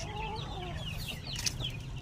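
Month-old white tuppy muff chickens clucking and peeping softly at close range, with overlapping short chirps over a low background hum.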